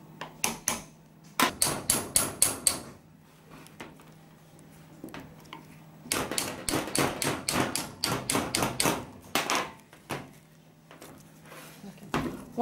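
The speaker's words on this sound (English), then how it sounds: "we might use the hammer" A hammer taps a tightened metal denture flask clamp to loosen it: fast runs of sharp, close metallic knocks in bursts separated by short pauses, loud and repetitive, with no talking.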